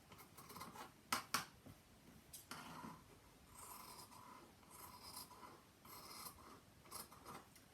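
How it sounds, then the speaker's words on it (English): Scissors snipping away excess Vilene interfacing from a sewn face mask of Liberty Lawn fabric, a few close, quiet cuts and rasping rubs against the cloth, with no voices. "if you've got any excess Vilene, just trim it away and keep it nice and tidy"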